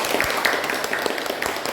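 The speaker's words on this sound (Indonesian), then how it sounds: "Tepuk tangan untuk kelompok Wahyu." A classroom of students claps for a classmate group during a lesson, steady close clapping filling the short moment with a few sharper individual claps standing out.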